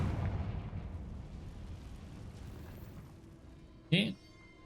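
A Confringo fire spell bursts in the Hogwarts Legacy video game as a single short, sharp blast near the end, after a stretch of low rumbling game ambience with talk early on.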